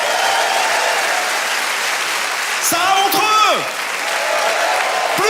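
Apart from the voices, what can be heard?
audience applause at a comedy show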